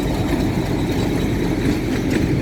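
The Hazara Express locomotive pulls into Golra Sharif Junction with a loud, steady, low diesel rumble and rolling rail noise close by.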